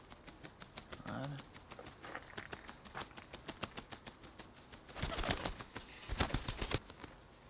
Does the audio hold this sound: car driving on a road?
no